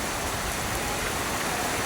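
Steady, dense hiss of rain falling, a constant wash of noise with no breaks and no voices.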